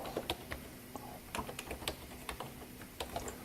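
Keys clatter on a computer keyboard in short irregular bursts of taps, close and fairly quiet, with small pauses between words and no voices.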